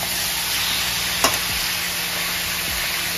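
Spices hitting hot oil in a frying pan while cooking Bengali kesar mutton bhuna, giving a steady, even sizzle throughout with a brief clink near the middle and no talking.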